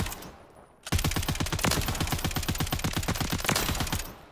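Slow, steady gunfire from a weapon in the video game Warzone, a loud rapid string of about two dozen evenly spaced shots after a brief quiet start, with no talking.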